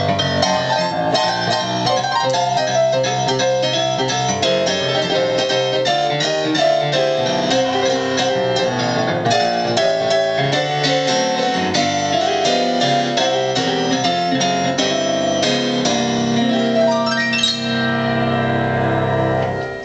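Concert Grand 1 piano sound from the iGrand app on iPad or iPhone, a continuous played passage of dense chords and melody, loud and close, with no talk.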